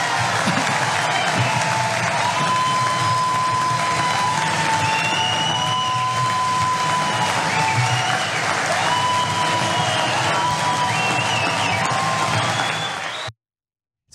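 A CPAC conference crowd cheers and applauds steadily after Viktor Orbán's speech, a dense, loud wash of clapping with whoops and shouts running continuously for about thirteen seconds before cutting off abruptly.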